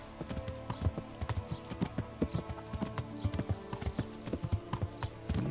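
Horse hooves clip-clop in the video game Kingdom Come: Deliverance, a quiet, steady walking rhythm of close hoofbeats over a low ambient background.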